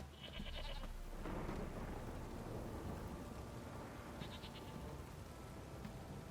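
Stormy weather in The Witcher 3 game world, a steady broadband wash of wind and rain with low rumbling, joined by brief bleating animal calls near the start and again around the middle.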